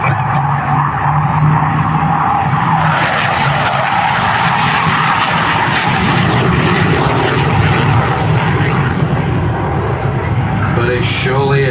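A Hawker Hunter jet roars past at an airshow, a loud, sustained broadband engine rush that holds steady throughout, with a brief rising whine near the end.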